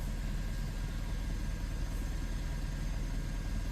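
A Mazda 3 engine idles in drive with the brake held, a low, steady, smooth hum with no audible roughness, continuous and fairly quiet throughout.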